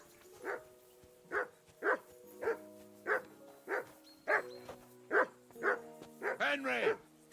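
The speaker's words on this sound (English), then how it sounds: "Call that dog to heel!" A dog in Kingdom Come: Deliverance II barks about ten times in an even rhythm, each bark loud and close. A voice breaks in near the end.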